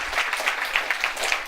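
An audience at a campus talk on deep learning applauds the speaker, a brief burst of many hands clapping in a crowd, moderately loud and steady.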